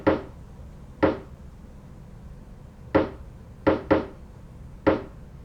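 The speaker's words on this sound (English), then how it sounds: "the pitched down rim shots that sound like this" Six short, woody drum machine rim shots, pitched down, in an irregular rhythm, each with a quick decay and a low, dull pitch, over a faint steady background hum.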